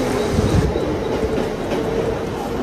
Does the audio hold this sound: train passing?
yes